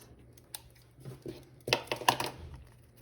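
Scissors snip off excess twine on a paper craft, a few quiet, close cuts and rustles clustered toward the end amid soft handling noise.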